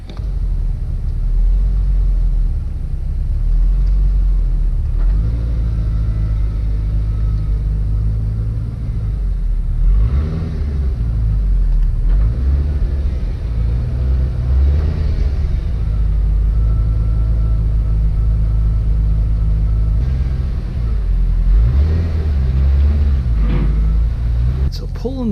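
A C5 Corvette's engine rumbles at low idle with a few light blips of the throttle as it pulls onto a hoist in a garage, steady and close, with someone talking over it.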